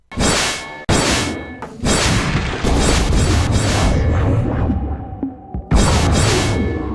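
Slashing melee weapon strikes in the video game Shrine, heavy whooshing swings and booming impacts in a dense, loud burst, a brief gap, then another sharp hit.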